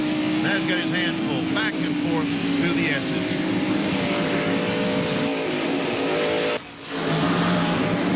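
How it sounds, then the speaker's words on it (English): A NASCAR stock car at Sears Point Raceway in 1994 powers out of a corner, its engine revving hard and climbing, then briefly dropping for a gear change before pulling again, with race commentary over it. "Back on the accelerator, comes off the corner. And quickly, while he's going straight, was shifted to 3rd."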